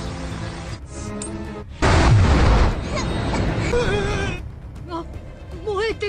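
In an animated fantasy battle, a thrown bugging chip explodes and destroys a tree: a sudden loud burst roars for about a second, then a rumbling wash of noise, with voices heard before and after.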